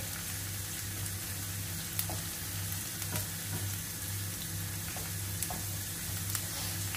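Squid adobo fries in a pan with a steady, soft sizzle, and a few faint clicks and stirring taps come through over the continuous crackle.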